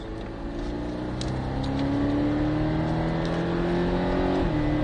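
A Porsche 718 Cayman S engine on a racing circuit pulls hard as it accelerates, heard close from inside the car with a steadily rising drone and a sudden drop near the end as the driver shifts gear.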